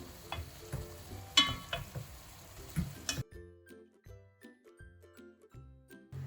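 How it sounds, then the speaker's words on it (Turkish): Meat sizzling and frying over high heat in a pot for Turkish paper kebab, with stirring clatters and scrapes in the first half, then quieter sizzle with occasional utensil clinks. "Yine tencerenin altını hiç kısmadan etlerimi de kavuruyorum."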